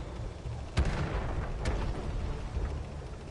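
Heavy tank cannon shots in World of Tanks, two loud booming blasts about a second apart with a fainter third, over a steady rumbling background.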